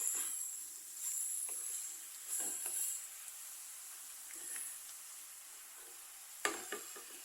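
Taro stem stir-fry is tossed and mixed in a pan, giving a faint, soft sizzle with intermittent scraping and stirring strokes and a sharper clatter near the end.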